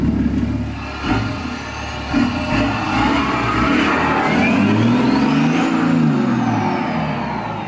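A diesel-engined BMW M5 revs repeatedly nearby, the engine note rising and falling in several swells, including one long climbing sweep.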